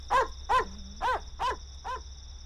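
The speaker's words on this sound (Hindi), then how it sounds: "ये तो कुत्ते की आवाज आ रही है।" A dog lets out five evenly spaced, drawn-out yelping barks with a wailing edge, fairly close and clear over a steady low hum, with no talking.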